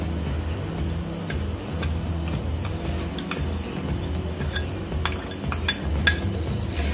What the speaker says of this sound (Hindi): अब हम सारी सामग्री को अच्छी तरह से मिक्स कर लेंगे।